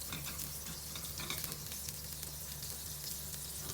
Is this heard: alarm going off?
no